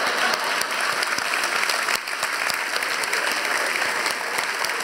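Steady, dense applause from a theater audience at a live comedy show, a continuous wash of clapping hands that holds at full strength throughout.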